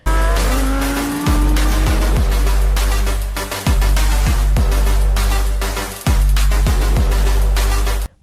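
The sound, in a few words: toy sports car racing sound with tire squeal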